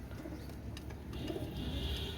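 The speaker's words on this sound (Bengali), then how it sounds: "এটা হচ্ছে আমাদের বিখ্যাত গলায় লাল কবুতার" Soft, low pigeon cooing nearby, a couple of murmuring calls over faint background noise.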